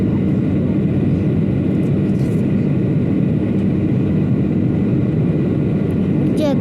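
Passenger airliner on final approach to land at Krasnoyarsk, heard from inside the cabin as a steady, loud engine and air roar that continues throughout without pause.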